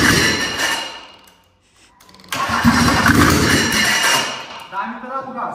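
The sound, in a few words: Mercedes 190D OM606 diesel engine starting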